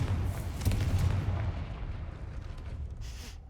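A Confringo fire spell explodes in the Hogwarts Legacy video game: a loud, booming blast that rumbles broadly and then fades away over a few seconds.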